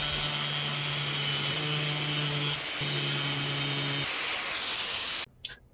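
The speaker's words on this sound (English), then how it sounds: "grind this off" A power grinder cuts off a bushing pin on a Honda CRX, a loud steady whine with shifting pitch steps, stopping near the end with a few brief clatters.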